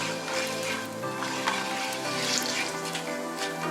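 Ghee melts with garam masala and other dry spices in a pot for chicken nasi biryani, giving a soft, continuous sizzle and crackle under steady tonal background music.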